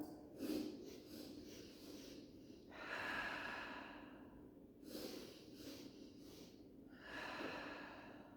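A person does a breathing exercise of three quick sipping inhales followed by a long sigh, repeated in close, soft, airy cycles, with no speech.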